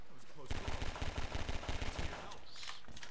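Gunfire in a co-op playthrough of the Half-Life 2 video game: a rapid run of automatic shots in tight bursts lasting about a second and a half, loud and close, followed by a quieter tail.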